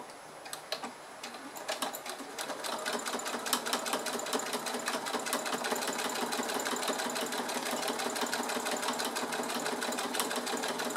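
A sewing machine stitches a fabric pocket seam about half a centimetre from the edge, making a steady, fast mechanical chatter that runs continuously and fairly loud with no talk.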